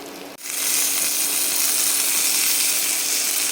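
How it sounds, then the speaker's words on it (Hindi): Chicken steak sizzles loudly in a pan, a steady close hiss that bursts in abruptly and holds without pause. "दूसरे साइड से भी हम ऐसे ही कुक कर लेंगे चिकन को"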